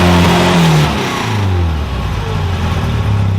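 At a car fair, a car engine is revved loudly up close, surging in a couple of strong blips before settling into a rough, high idle.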